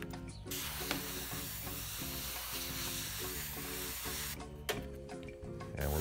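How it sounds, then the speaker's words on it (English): An airbrush hisses steadily at low pressure, about 10 to 15 psi, spraying paint onto the tires of a 1/56 scale M4 Sherman model tank. The near, continuous airy spray pauses briefly at the start and near the end. "And we're spraying about 10 to 15 psi."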